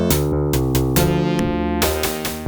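Upbeat chiptune-style main theme for the game DIGGIN', composed in Bosca Ceoil for a Ludum Dare 36 entry, with bright synth notes in short repeating phrases, loud and continuous with no talking.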